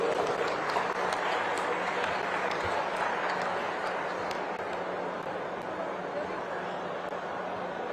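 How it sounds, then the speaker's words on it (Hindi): An audience at a government ceremony in Pinjore, with the Chief Minister presenting certificates, claps steadily and densely, a sustained wash of applause that holds even and loud for the whole stretch, with faint crowd murmur beneath. "तालियां आप सबकी तरफ से।"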